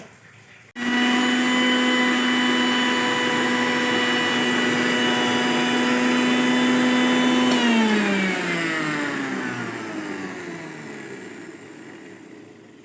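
An electric mixer grinder whirs as it grinds coconut chutney with salt in its jar, a loud steady motor hum that runs for several seconds and then winds down as the motor slows to a stop, with no talking.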